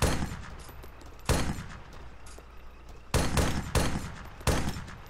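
Gunfire in the military shooter Arma 3, loud sharp shots and short bursts arriving in separate blasts, each followed by a ringing echo, with quiet gaps between.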